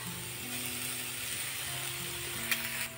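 Spice paste hits chopped pointed gourd (potol) frying in a pan for a vegetarian potol bharta, giving a steady, even sizzle throughout with a faint background hum and no talking.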